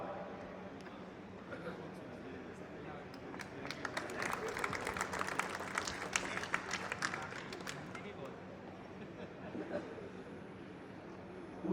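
Audience applause at a court felicitation ceremony as a returning officer is welcomed: a steady burst of clapping builds over murmured talk, holds for several seconds and then fades back to voices.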